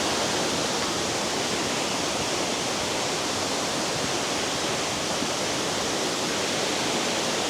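A river runs beneath a footbridge, fed by a mountain waterfall near Nærøyfjorden in Norway. The water gives a steady, dense broadband rush that stays even and fairly loud for the whole stretch, with no voices over it.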